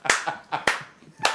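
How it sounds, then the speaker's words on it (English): Sharp hand claps in a hip-hop song track, about four distinct, fairly close claps in a loose rhythm, with vocal sounds between them. "Let's clap"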